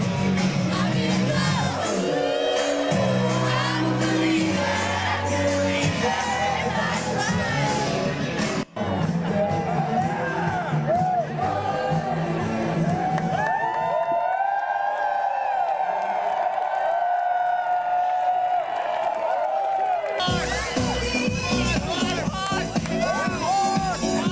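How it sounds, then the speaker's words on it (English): Crowd cheering for a horse, a loud, sustained roar of shouts and whoops, briefly dropping away mid-clip before swelling back to full volume. "Cheering for the horse"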